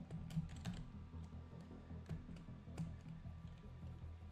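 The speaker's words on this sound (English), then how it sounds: "because I'm typing" Rapid clicking of keys on a computer keyboard, quiet and close, an irregular stream of taps and keystrokes over a faint background hum, with no one talking.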